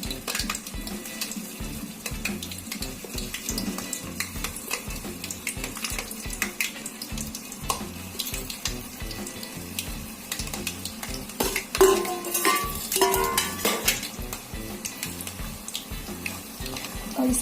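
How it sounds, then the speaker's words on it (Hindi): Cabbage manchurian balls deep frying in hot oil over medium-low heat, a dense continuous sizzle and crackle with occasional clinks of a utensil against the pan, no talking. "तो इसमें हम डीप फ्राई करेंगे।"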